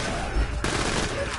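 Rapid, sustained gunfire from the Infinity Pistol in Borderlands 2, a dense unbroken stream of loud shots with a brief sharper crack partway through.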